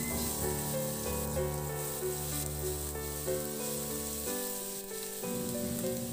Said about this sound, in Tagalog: igisa yung bawang.